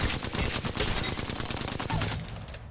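The Alternator SMG firing in the video game Apex Legends, a dense, continuous stream of rapid gunshots, loud and close, tailing off at the end.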